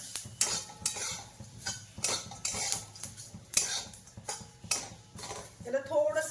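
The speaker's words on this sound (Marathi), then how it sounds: "कडक होईपर्यंत भाजायचं याला जरा" Spices and stone flower dry-roasting in a pan, with repeated scraping and clinking of a spoon against the metal, close and fairly loud, in an irregular rhythm throughout.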